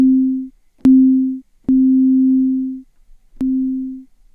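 Synthesizer plucky tone with reduced attack: four low, pure sine-like notes of varying length, each starting with a sharp click and ending abruptly, separated by short silences.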